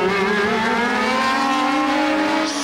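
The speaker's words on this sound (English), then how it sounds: "Closing up on Rosberg in the white car, Villeneuve, and he's passed." 1981 Formula One race cars scream past at the Spanish Grand Prix, a loud, sustained high-pitched engine whine holding steady through the pass with no voices.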